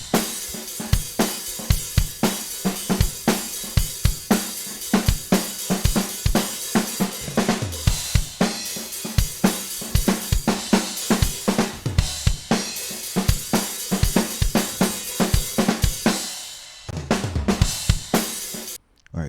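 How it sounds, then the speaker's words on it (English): A dry drum track with no effects applied, punchy kicks, snares and cymbals hitting in a steady driving rhythm, loud and continuous, with a brief thinning near the end before the hits resume. "The drum track without the effects sounds like this."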